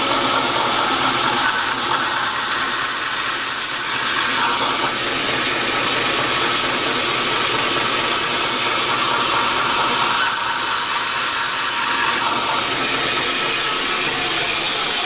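Balsa wood gussets for a 1/4 scale Balsa USA Fokker D.VII model airplane being cut, a steady, loud, continuous hissing rasp that runs nearly unbroken throughout with slight surges.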